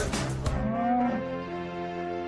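Cattle moo with long, low drawn-out calls on a working farm, one near and loud with a rising then falling tone, with no talk over it.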